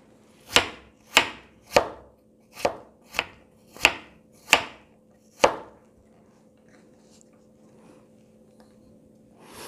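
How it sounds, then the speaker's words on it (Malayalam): A knife slices banana stem thinly in eight crisp, evenly spaced chops on a board, close and sharp, followed by a few seconds of near silence. "നമുക്ക് ഇനി ഇതൊന്ന് അരിഞ്ഞെടുക്കാം."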